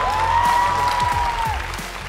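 Studio audience applause during a Vietnamese rap competition show, a broad steady wash of clapping lasting about two seconds with a faint sustained tone and brief low thumps beneath.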